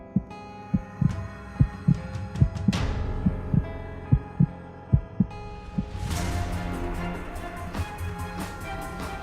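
Pounding heartbeat sound effect under a tense, dark music bed, with a steady run of sharp low thumps that pause midway and then resume.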